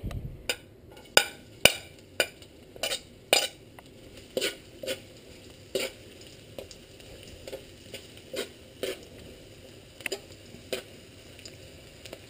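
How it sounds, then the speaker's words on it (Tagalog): Garlic sautéing in an old, well-worn wok from the Philippines, with a soft steady sizzle beneath sharp, irregular clinks and scrapes of a metal spatula against the pan. "Let's saute our garlic."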